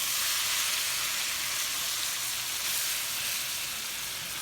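Beef browning in a pan, a steady dense sizzle and frying hiss that runs without a break at an even, fairly loud level, with no talking.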